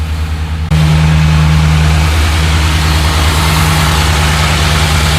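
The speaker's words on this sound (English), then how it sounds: "it idles consistently at 875, 900 RPMs, and just super smooth" An LS-swapped 1984 Ford Bronco II with Holley EFI idles steadily and smoothly up close, a low continuous rumble that steps up in level after a brief quieter start and then holds even.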